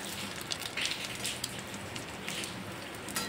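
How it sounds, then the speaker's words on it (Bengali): Pumpkin flower fritters fry in hot oil, a soft, continuous crackling sizzle with scattered pops, fairly quiet and steady throughout. "ভালো করে উল্টিয়ে পাল্টিয়ে নেড়ে চেড়ে ভেজে নেব"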